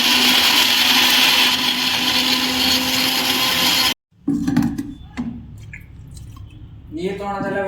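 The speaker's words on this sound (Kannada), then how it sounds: "ಇದು ಮಿಕ್ಸಿ ಐತಲ್ಲ, ಭಾರಿ ಡೇಂಜರಸ್ ಐತಿ. ಇದು ಆಟೋಮೆಟಿಕ್ ಐತ್ರಿ. ಇಲ್ಲಿ ಆನ್ ಮಾಡಿದ ತಕ್ಷಣ ಆನಕತಿ." A kitchen mixer grinder runs loud and close with a steady high whirring roar, then cuts off abruptly; afterward come clinks, handling noises and a voice speaking.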